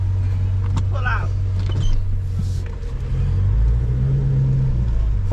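A straight-piped Dodge Charger R/T exhaust drones loud and low from inside the car, the rumble swelling as it pulls off, with a power window's whir and someone talking over it.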